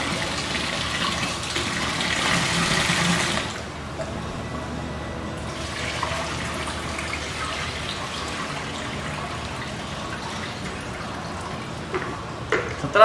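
Water from washed sorghum grain pours and gushes out as it drains, a loud rushing stream at first, then a softer steady trickle and splash.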